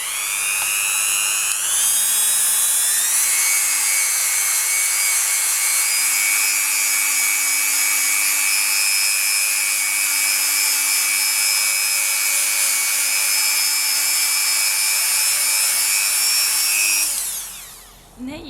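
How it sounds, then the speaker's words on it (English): A Dremel 3000 rotary tool with a buffing attachment polishes a faux emerald polymer clay bowl, giving a loud, steady high-pitched whine that rises slightly as it spins up, holds for a long stretch, then winds down at the end. "Then I'm going to bring over my Dremel 3000 with my buffing tool"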